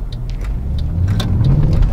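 Mercedes-Benz C63 AMG V8 accelerating on the road, a loud close engine roar with rising pitch building through the pull, heard from inside or near the car without talk.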